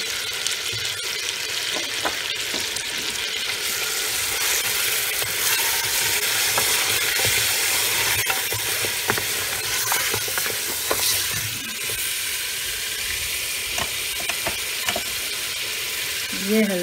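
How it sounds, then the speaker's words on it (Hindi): Tomatoes and masala bhuna-fried in a pan for dal makhani give a loud, steady sizzle with continuous crackle and occasional stirring clicks throughout. "अब मैं ये सारा मसाला भी डाल दूँगी और मैं इसको भूनूंगी"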